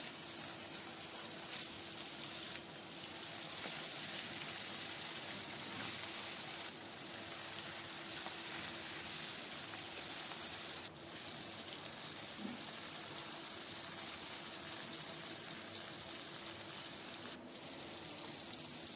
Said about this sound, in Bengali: মাছগুলো নুন হলুদ মাখিয়ে ভেজে নিলাম